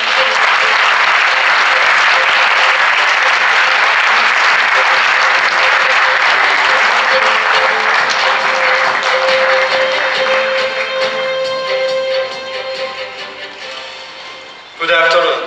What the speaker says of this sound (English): Let's welcome him to the stage with a great round of applause.